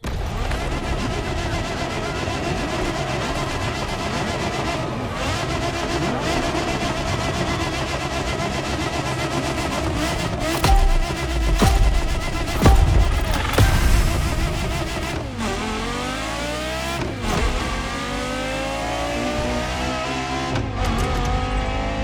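Porsche Carrera GT engine in The Crew Motorfest, revving loudly and continuously with rising and falling pitch sweeps over a steady roar, surging strongest midway with brief gear changes, alone without talk.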